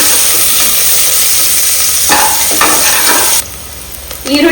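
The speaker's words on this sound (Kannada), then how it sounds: "ಈಗ ಒಂದು ಈರುಳ್ಳಿ ಮೀಡಿಯಂ ಈರುಳ್ಳಿ ಸ್ವಲ್ಪ ಫ್ರೈ" Onion and crushed garlic frying in oil in a pressure cooker, a steady close sizzle with scraping stir strokes partway through, then the hiss drops sharply near the end before rising again.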